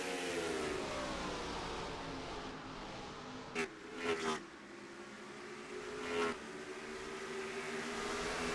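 Race cars in a sim racing video game on the Pocono track produce a continuous engine drone at moderate level, with a few brief louder passes standing out, and no talk.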